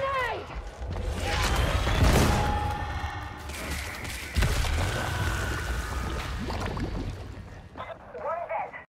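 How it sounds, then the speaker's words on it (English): A thrown grenade explodes in the video game Warhammer 40,000: Darktide: a heavy thud and blast among gunfire and game effects, with loud combat noise continuing and voices speaking over it. "Throwing grenade!"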